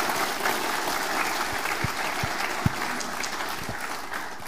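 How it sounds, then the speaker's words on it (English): Audience applause for Crown Prince Haakon of Norway after a speech, a steady dense wash of many hands clapping with a few sharper claps standing out, continuous and fairly loud throughout. "can we please give His Royal Highness another round of applause?"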